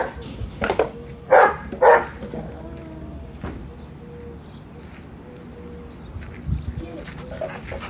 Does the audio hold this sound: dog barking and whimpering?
yes